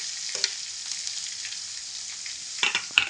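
Chopped onion going into hot oil with bay leaf and curry leaves, giving a steady, close sizzling hiss throughout with a few sharper crackles near the end.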